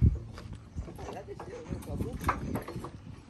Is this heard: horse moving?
yes